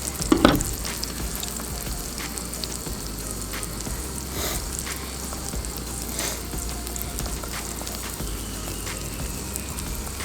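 Maple sausage sizzles in a pan on a single-burner camp stove: a steady, close frying hiss with a brief clatter at the start, and no talking.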